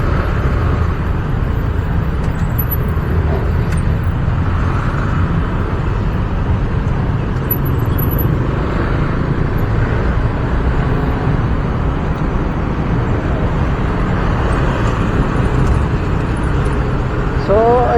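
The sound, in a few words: heavy road traffic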